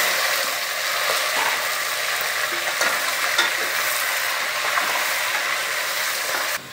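Loud, steady sizzling of chicken frying in hot oil, with occasional stirring scrapes and no voices.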